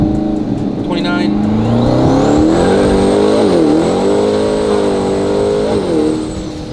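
A C8 Corvette ZR1 convertible with a top-mount twin-turbo kit roars under full throttle from about 29 mph, pitch climbing steadily with a high turbo whine above, loud and close, under a talking voice.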